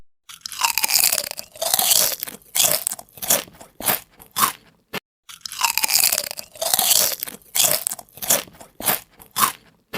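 Loud, close crunching bites into raw Indian mango with chili and salt, followed by steady chewing, repeated in two rounds with brief pauses between.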